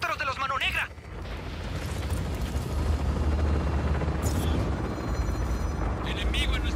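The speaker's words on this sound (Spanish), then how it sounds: "¡Helicópteros de los Mano Negra!" Enemy helicopters in the Just Cause 4 video game thrum as a heavy, continuous low rumble mixed with explosive booms, while a voice speaks briefly at the start and end.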